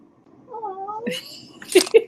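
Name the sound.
cat meowing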